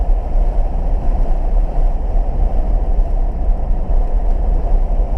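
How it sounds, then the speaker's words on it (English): A blower motor runs steadily inside an old, long-neglected third-generation Pontiac Firebird, giving a continuous low hum and rumble with a broad whooshing airflow that stays even throughout and carries no speech. "The blower motor works."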